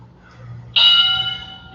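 A single bright bell strike during a home workout rings out and hangs with a long, steady decay over a low background hum.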